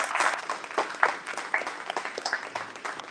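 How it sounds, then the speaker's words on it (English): Audience applause fills a debate venue for a New Jersey congressional district debate, a moderate steady patter of many hands clapping at mid distance for about three seconds. "Give me some round of applause here tonight."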